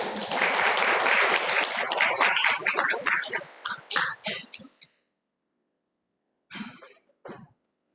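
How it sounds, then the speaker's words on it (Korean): A church congregation claps to welcome a missionary at a university graduate worship service, dense applause tapering off into scattered claps, then silence and a couple of brief coughs. "나오실 때 큰 박수로"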